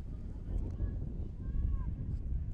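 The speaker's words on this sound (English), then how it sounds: "A little bit windy now here in Baltimore as weather starts to pick up" Steady wind rushes and buffets the microphone outdoors at a high school varsity football game in Baltimore, a continuous low roar with no talk over it.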